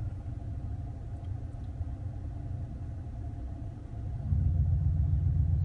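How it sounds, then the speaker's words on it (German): Simulated car engine sound from an Active Sound system held at a constant rpm: a steady, droning low rumble that stays even, then steps up slightly louder and fuller near the end, with no talk. "wir hören sofort, dass das System mit einer monotonen Drehzahl arbeitet, die von der App vorgegeben wird"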